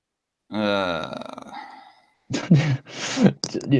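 A man makes a drawn-out vocal groan or growl, loud and close, followed by a pause and then several short gruff vocal bursts.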